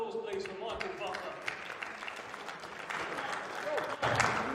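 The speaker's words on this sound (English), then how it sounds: "Let's get a round of applause, please, for Michael Buffer." A crowd at a boxing event applauds the ring announcer, producing steady, distant clapping and cheering that swells slightly toward the end under an amplified voice.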